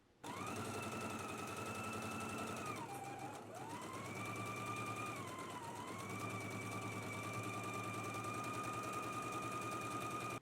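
A sewing machine stitches a seam on a pair of pants with a steady whirring run, a brief pause and dip in speed partway through, then continues at a constant pace, close and alone.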